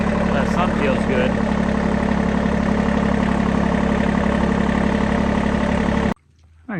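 A tractor engine idles in a steady low drone with a constant mechanical hum, loud and close, before cutting off abruptly near the end; no words are spoken.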